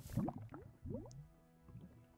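In Minecraft, lava turns into water with soft squishing, dripping liquid sounds: a few wet gurgles in quick succession, then a quieter one after a pause, with no talking.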